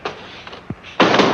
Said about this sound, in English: Fasten the doors, Kingfish.